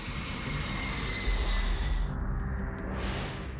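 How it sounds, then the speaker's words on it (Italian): Hercules transport aircraft flying at night toward Entebbe: a steady engine drone with rumbling lows, a brief swelling surge midway and a rising whoosh near the end, moderately loud with no speech. "L'avanguardia del Sayeret Matkal atterra ad Entebbe su aerei Hercules in piena notte."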